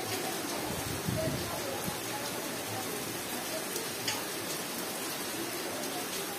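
Soft, steady hiss of rain falling outdoors, even and continuous, with a few faint drips and distant bird calls.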